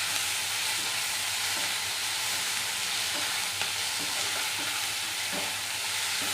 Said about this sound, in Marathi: टोमॅटो घालून आपण 1-2 मिनिटांसाठी परतून घेणार आहोत।